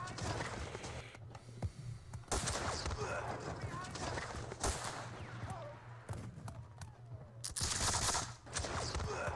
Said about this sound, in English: A lot of opportunity fire from those skirmishes.